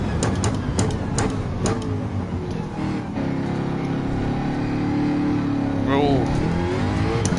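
Group 3 race car engine in Gran Turismo 7 droning steadily with revving and gear changes, a voice talking over it throughout.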